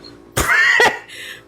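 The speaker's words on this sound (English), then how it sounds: "I listened to her last cough" A single harsh cough bursts out over about half a second in a livestreamed debate, close and fairly loud, followed by a fainter breathy tail.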